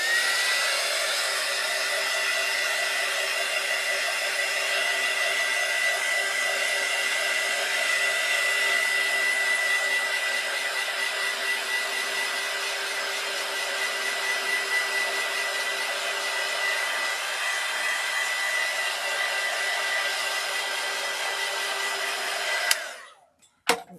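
A hair dryer runs steadily for about twenty seconds, drying alcohol ink on a ceramic tile, with a close, even whooshing hum and a faint whine, then cuts off with a click.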